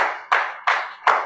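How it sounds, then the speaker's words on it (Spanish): A church congregation claps in three slow, loud, evenly spaced bursts, each sharp at the onset and fading quickly. "Un aplauso."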